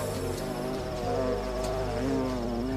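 A bumblebee hums continuously near blue lobelia flowers in a garden, a loud, close, sustained buzz with shifting pitch and no talking.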